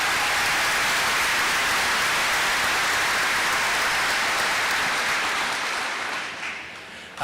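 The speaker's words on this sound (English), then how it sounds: "So if we could give her a round of applause, I would really appreciate it." A graduation ceremony crowd for a Class of 2024 claps in sustained, dense applause like heavy rain, loud and even throughout before tapering off near the end.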